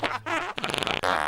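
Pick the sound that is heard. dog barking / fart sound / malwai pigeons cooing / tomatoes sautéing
fart sound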